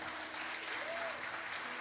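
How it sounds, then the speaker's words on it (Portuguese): Steady applause from a church congregation clapping together, filling the space evenly and continuously with no pause, joined by a faint sustained tone from a singer or organ partway through. "Você pode aplaudir o Senhor?"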